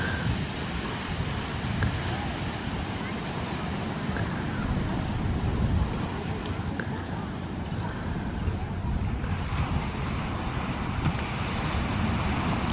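Ocean surf with surfers out on the waves: a steady, dense wash of breaking water and wind rush fills the whole stretch, with no distinct break standing out.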